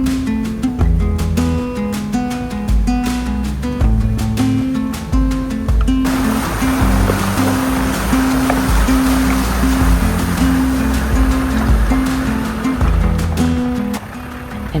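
Land Rover Defender crossing a river in the Baviaanskloof, its engine droning steadily until water surges and splashes loudly around it for the rest of the way, no voices.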